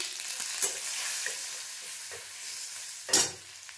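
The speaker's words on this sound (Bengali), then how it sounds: "একটু ভাজা ভাজা হতে থাক" Spices sizzle steadily in a hot pan with turmeric for masoor dal, with a few sharp scraping clinks of stirring, the loudest near the end.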